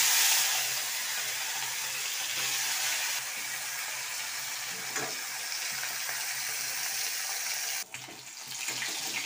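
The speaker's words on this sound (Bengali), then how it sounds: "তেল গরম হয়ে গেছে, এবার আমি মাছগুলো একে একে ছেড়ে দেবো।" Fish frying one piece at a time in hot mustard oil in a wok make a loud, continuous sizzle. The hiss dips briefly near the end, with a few soft clinks. No speech.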